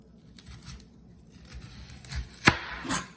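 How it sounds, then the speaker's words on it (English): A knife slicing the top and bottom off a single onion on a board, a few soft chopping cuts with one sharper, louder chop near the end, close and without talk. "Next, we will need 1 onion. Start by taking the top off, then the bottom"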